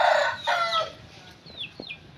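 A pet chicken named Chikay sits in a hammock, making a short run of loud, close clucking calls at the start, then a few quieter, higher squawks trailing off.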